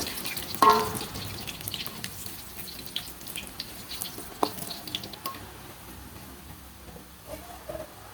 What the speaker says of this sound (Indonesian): Sosis kribonya ini siap digoreng.